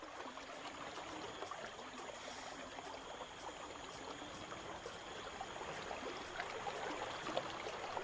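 A rainforest stream flows near waterfalls, a steady, soft rushing and bubbling wash of water that continues evenly throughout at a moderate distance, with no voices.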